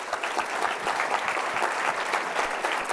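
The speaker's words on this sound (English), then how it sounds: "Let's give them a round of applause." An audience claps for panelists at a water infrastructure panel event, with sustained, even applause that is fairly loud and dense for the whole stretch.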